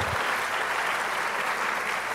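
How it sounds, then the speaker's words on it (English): An audience at a professorial inaugural lecture applauds steadily, with dense continuous clapping at an even loudness throughout and no speech over it. "shall we please applaud the German ambassador to the Republic of Ghana, His Excellency Daniel Kroll"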